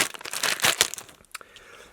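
Plastic packaging of an MK light switch is popped open by hand, a burst of crinkling and crackling snaps with a few sharper clicks before it settles, close up and alone.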